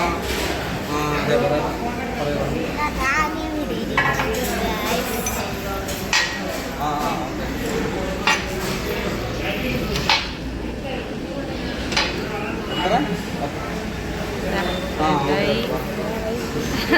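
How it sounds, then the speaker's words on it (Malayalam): Plates being set out clink and clatter in a string of short, bright ceramic knocks at close range, scattered irregularly under continuous talking voices. "പ്ലേറ്റ് ഒക്കെ ഇവിടെ കൊണ്ട് നിരത്തി വെച്ചിട്ടുണ്ട്"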